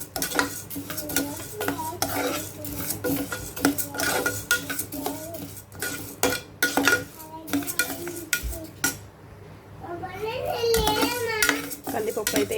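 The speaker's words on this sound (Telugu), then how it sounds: "ఇదైతే ఇలా 2 కలిపి దూరగా వేయించుకోవాలండి" Toor dal and Mysore dal roasting together in a dry pan, heard as busy clattering of a metal spoon against cookware with scraping stirs, while a voice chatters in the background.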